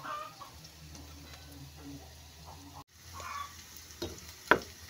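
Garlic and onion sautéing in a pan, a soft low sizzle with scraping stirs, faint and close, a brief dropout midway, a sharp knock near the end and a chicken clucking in the background.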